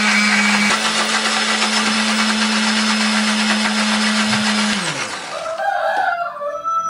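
Electric blender grinds pepper, candlenut, turmeric, shallots and garlic with a little water, a loud steady motor whine that winds down after about five seconds, leaving faint clatter.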